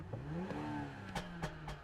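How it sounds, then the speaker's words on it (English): BMW X7 V8 engine cranking and catching, then revving as the accelerator is held down with the brake on, rising and falling engine tone with a few sharp clattery bursts, fairly quiet overall. "hold the brake, and then start the car."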